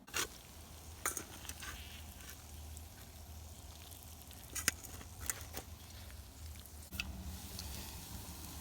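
Lamb jerky brined in salt and hot sauce sizzles softly in a pan over a wood stove, a quiet steady fry with a few sharp knocks and clatters scattered through it.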